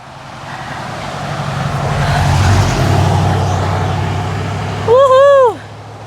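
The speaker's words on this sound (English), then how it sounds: "Oh, there's cars coming too" Cars pass on a road in Michigan near a waterfall: a broad engine-and-tire rush swells and fades as a vehicle goes by, then a brief rising-falling whistle or squeal near the end, outdoors and fairly loud.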